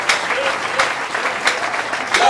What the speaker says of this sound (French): Est-ce qu'on peut acclamer ça?